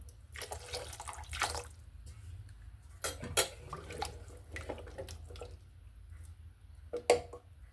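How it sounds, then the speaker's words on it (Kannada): Water splashes and pours into a metal pot of frying drumstick, potato and tomato for sambar in a few uneven bursts, with light clinks of cookware between them, close by and fairly quiet. "ಇವಾಗ ನೀರು ಹಾಕ್ತೀನಿ, ಬೇಯೋಷ್ಟು ನೀರು ಹಾಕ್ತೀನಿ"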